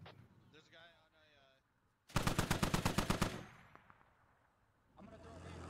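A militia DShK heavy machine gun fires a loud, rapid burst of about a dozen rounds in a tactical shooter game, following brief talk and then trailing off into a quieter ambience.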